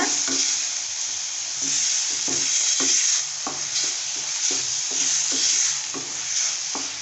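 Steady sizzling of chopped tomatoes sautéing in a frying pan, with soft rhythmic scrapes of a spoon stirring at regular intervals.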